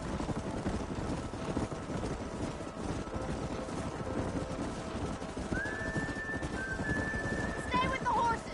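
Horses in the video game Red Dead Redemption move in a herd, a continuous rumble of hooves with a whinny-like tone late on, under game sound and speech.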